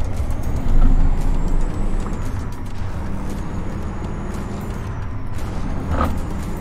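Freightliner Argosy truck in American Truck Simulator, a steady low engine rumble running throughout with a brief air-brake hiss near the end.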